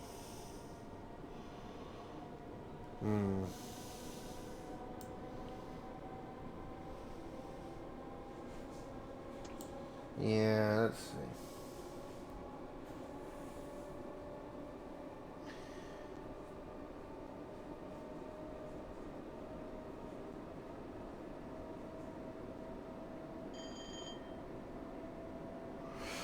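Train running in the Train Sim World 6 video game on the Glasgow to Edinburgh Waverley line, a steady low rumble with a couple of loud pitched horn-like blasts and a faint beep, with a few quiet spoken words.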